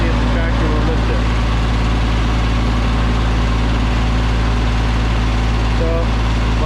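A Kioti CS2510 compact tractor engine idles and runs continuously, steady and loud with a deep low rumble, a few faint mechanical whines rising briefly over it.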